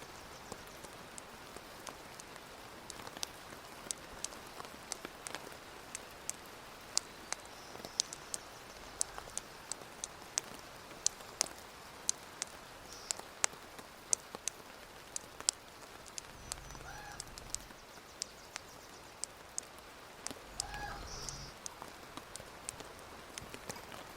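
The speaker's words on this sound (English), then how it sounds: "huge plunks of rain are splattering on the Devil's Club like a jazz percussionist" Fat raindrops patter and plunk irregularly on Devil's Club leaves nearby in Alaska, sharp scattered taps over a soft wet background, with a few low thumps and no voices.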